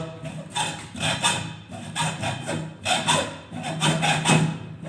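Repeated rasping strokes of a blade scoring around the metal armor of an armored cable during cable glanding, rhythmic scraping bursts close by with no talk.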